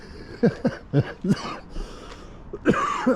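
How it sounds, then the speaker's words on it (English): A run of short, harsh coughs in quick succession, close and fairly loud, with a brief pause before two more. "So excited, I'm coughing."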